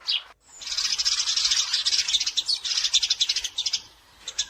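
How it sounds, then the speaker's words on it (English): Rapid, high-pitched sparrow chirps in quick bursts, close and clear, continuing for several seconds before trailing off. "And the sound of sparrow is"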